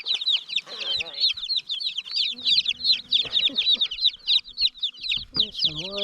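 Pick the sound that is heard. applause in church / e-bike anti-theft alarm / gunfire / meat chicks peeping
meat chicks peeping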